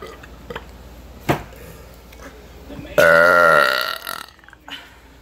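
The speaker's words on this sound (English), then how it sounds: "second burp." A loud, long burp in a burp contest between friends, a sustained rumbling belch of about a second and a half, with brief talk and background chatter before and after.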